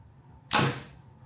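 A Hoyt RX9 Ultra carbon compound bow releasing an arrow: a single sharp, bright thwack with a quick swishing decay, close and fairly quiet over a low background hum.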